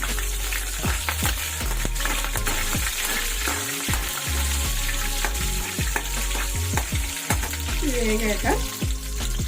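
Mustard seeds, cumin and dried red chilli frying in hot oil for a Telugu capsicum masala curry, giving a steady loud sizzle with crackling pops and stirring scrapes throughout, plus faint background music.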